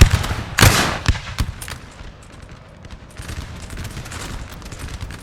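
Musket infantry volleys in Napoleon: Total War, a multiplayer battle, with a few sharp cracking reports early on, then a thinner scattered crackle of more distant shots over battlefield noise.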